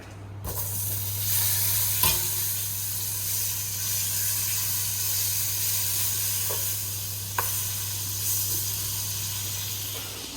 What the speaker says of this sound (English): grab some butter. Put it on our pan that we've got heating up over here